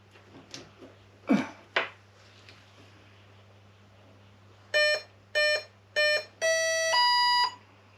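RC jet electronic speed controller arming through a servo tester: after a few scattered knocks, five clear electronic beeps play, three short even tones, then two longer ones at differing pitches, close and alone.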